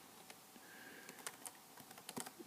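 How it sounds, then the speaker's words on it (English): Quiet typing on a computer keyboard while entering login details, a string of soft, uneven key clicks with brief pauses, close by, and no talking. "I'm typing in my login information to act like a student."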